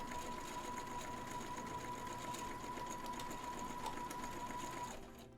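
A sewing machine runs a regular straight stitch down fabric at a steady pace, a close, continuous mechanical whir and rapid clatter that slows and stops at the end.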